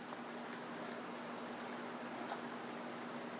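A Pelikan M400 Green Stripe fountain pen with an extra fine 14 karat nib writing on paper, a faint, close, steady scratchy rustle with small tick-like strokes, quiet and continuous, without talking.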